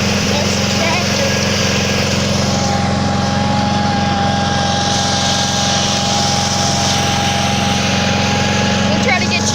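A 1977 Sears 18.6 garden tractor engine runs steadily outdoors, a loud, constant droning hum with an unbroken mechanical whine throughout.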